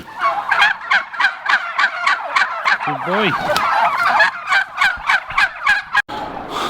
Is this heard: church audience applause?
no